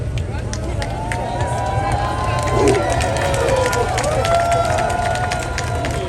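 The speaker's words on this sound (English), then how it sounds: "people are cheering because one of Tibet's longest time supporters, dedicated true friend Richard Gere, is here with us" A large outdoor crowd at a candlelight protest vigil in Times Square, New York, cheers and whoops in a dense, sustained roar, with scattered claps and voices talking over the noise.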